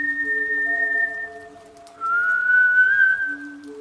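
A person whistles a sustained tune close by, with held pitches and a brief quieter gap in the middle, over a faint steady background.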